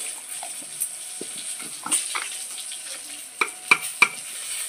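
A spoon mixing turmeric spice paste in a bowl, making a series of light scraping and clinking taps that are sparse at first, then sharper and closer together near the end.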